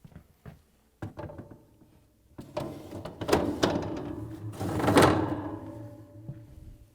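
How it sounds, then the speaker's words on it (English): A plastic lower drawer goes into an LG/Kenmore refrigerator: scattered knocks and rattles, then louder sliding scrapes and a solid thunk as it seats, fairly close and with no voice. "Install the lower drawer."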